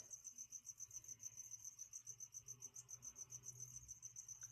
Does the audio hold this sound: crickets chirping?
yes